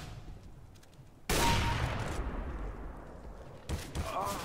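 Gunfire in the video game CS GO: a sudden loud burst of rapid shots erupts partway through, followed by a sustained noisy barrage that eases off and then flares again near the end.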